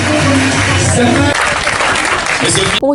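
Applause from a studio audience at a French-language Sunday news broadcast, a dense steady wash of clapping sustained for nearly three seconds with music beneath and a low voice briefly under it, cutting off sharply at the end.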